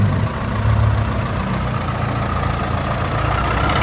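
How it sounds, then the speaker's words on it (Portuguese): A tractor engine idles and runs on a street, a loud, steady low rumble close by, continuous throughout with no talk. "Olha lá, trator vendendo na rua."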